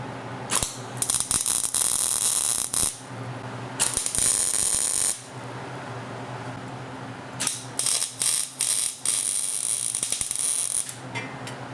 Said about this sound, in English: So now I just need to go ahead and put a few welds around it.